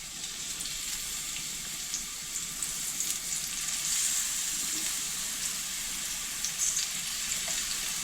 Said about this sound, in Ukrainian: поки всі баклажани не пожарю. Якщо потрібно, підливаємо трошки олійки. Та далі обсмажуємо.